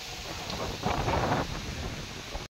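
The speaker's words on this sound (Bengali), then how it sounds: "গাইস সেই লেভেলের হাওয়া হচ্ছে" Strong storm wind from Cyclone Remal roars steadily outdoors, a rushing, gusty noise with microphone buffeting that swells briefly in the middle, with no voices.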